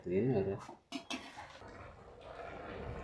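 A metal spoon scrapes and clinks against a pot while chicken with masala is stirred, a few quick knocks followed by softer continuous scraping.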